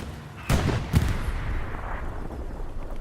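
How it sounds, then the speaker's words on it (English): Two heavy booming shots from an MG42 machine gun in a World War II shooter set at the Battle of the Bulge near Foy, loud and close, then a rumbling tail of distant battle noise. "Laren here with the MG42."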